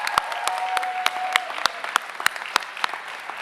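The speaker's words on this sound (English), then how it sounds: "Let's give that round of applause." A crowd applauds at a university stole ceremony for graduates, a broad steady patter of many hands with several sharper, louder individual claps standing out close by.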